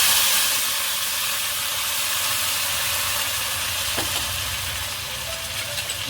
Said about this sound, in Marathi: आणि याच्यात टाकूया पाणी